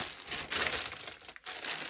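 A large plastic parcel bag is torn open by hand, giving a short burst of close, loud crinkling and ripping plastic with a brief pause near the end, with no talking.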